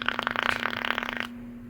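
Hard draws through a Cthulhu 520 RBA atomizer give a close, loud, rapid fluttering crackle that pulses steadily for about a second, then cuts off abruptly into a low steady hum.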